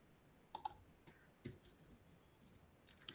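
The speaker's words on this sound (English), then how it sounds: "I'm just typing, so I will send it to you." Quiet clicks of typing on a computer keyboard come in short irregular bursts, faint and close, with gaps between the clusters of keystrokes.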